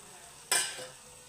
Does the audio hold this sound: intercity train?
no